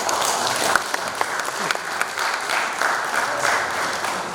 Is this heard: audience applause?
yes